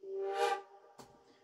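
Lucent flute software plugin on its dynamic patch sounding a single breathy chord that swells and fades within about a second, followed by a short soft attack, quiet and alone.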